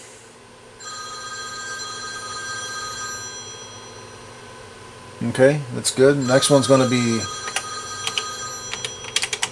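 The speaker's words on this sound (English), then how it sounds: "And just never mind that phone ringing." A telephone rings steadily in the background with a sustained electronic tone, while someone talks over it in the foreground.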